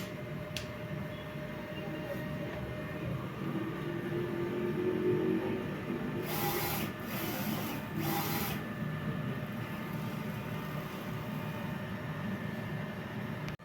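A DTF printer runs a nozzle test, giving a low mechanical hum with a faint whine, then a few short bursts of carriage and print-head noise before settling back to a steady drone.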